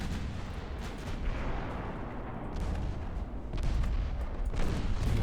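Naval artillery shells firing and impacting during a battle in the warship game Ultimate Admiral Dreadnoughts, a continuous heavy rumble of overlapping booms and blasts, loud throughout and swelling near the end.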